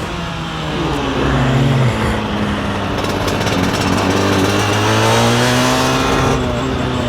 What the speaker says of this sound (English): Hear that clutch scagging